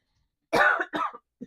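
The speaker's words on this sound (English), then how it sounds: "excuse me, I'm going to cough." A person coughs twice in quick succession, close and clear, followed by a short faint throat sound, with silence before.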